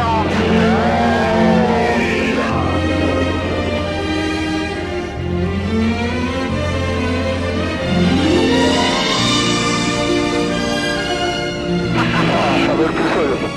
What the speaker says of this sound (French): Le bruit est complètement différent des 912 habituellement parce que le pot a dû être travaillé un petit peu et ça fait un bruit un peu particulier